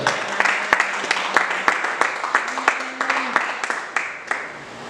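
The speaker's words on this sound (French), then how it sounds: "Est-ce qu'on peut acclamer la parole du Seigneur?" A church congregation claps together to acclaim the word of the Lord, with sharp irregular claps over a steady bed of applause and brief sung or hummed tones beneath.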